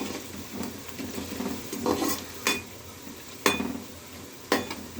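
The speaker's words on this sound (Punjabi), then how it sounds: "ਹੁਣ ਅਸੀਂ ਇਹਨੂੰ ਚੰਗੀ ਤਰ੍ਹਾਂ ਹਿਲਾ ਲਾਂਗੇ" A spoon stirs masala in a pan while cooking dry aloo methi sabzi, giving soft scraping and sizzling under repeated sharp clinks of metal against the pan, close by.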